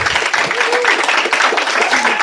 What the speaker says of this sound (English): A big round of applause for Chris Casasnovas.